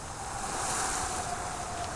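Storm waves in Virtual Villagers 3, a continuous rushing wash of surf and wind, dense and steady with no voices over it.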